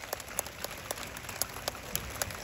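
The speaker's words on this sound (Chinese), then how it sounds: "让我们用掌声谢谢嘉义市政府" Faint, distant applause from an outdoor audience at a fire dance show, a sparse patter of scattered claps with no voices over it.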